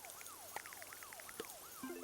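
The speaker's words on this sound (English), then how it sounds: "I like that there's like a sound of like an ambulance in the background too" An ambulance siren wails in the background with a repeating falling sweep, distant and fairly faint, with a few soft clicks and a brief low tone near the end.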